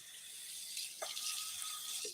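Water running from a tap onto a painted, rusty thrift-flip piece to wet-distress the paint, a steady hiss of flow throughout with a couple of soft splashes, close and alone.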